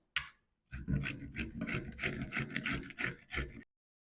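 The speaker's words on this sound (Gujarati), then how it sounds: "હવે આપણે મોટી છીણીમાં એને છીણી લેવાનું છે" Peeled papaya being grated on a coarse hand grater: a brief scrape, a pause, then a run of rapid rhythmic rasping strokes, close and fairly loud.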